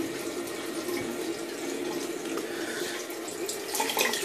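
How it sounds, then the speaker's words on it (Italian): Hot tap water runs steadily into a bathroom sink, drawn for a straight-razor shave with sandalwood shaving soap; a continuous close splashing flow with no voices. "Vado a mettere l'acqua bolliente."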